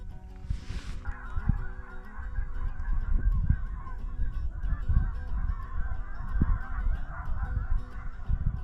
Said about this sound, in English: There's a whole bunch of geese.